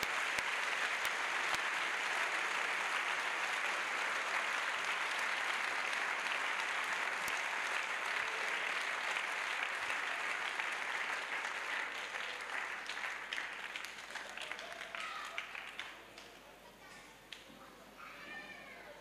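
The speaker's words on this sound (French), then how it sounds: "Let us clap for Jesus Christ." A congregation at an evangelistic crusade service claps for Jesus Christ in long, dense applause that slowly fades over about twenty seconds, with scattered voices and cries mixed in.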